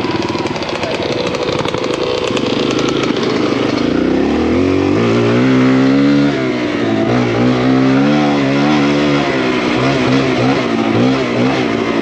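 Dirt bike, a Kawasaki KLX140RF, riding at a racing park behind two-stroke trials motorcycles, a loud close engine drone that rises and falls through gear changes and revs, with no talking.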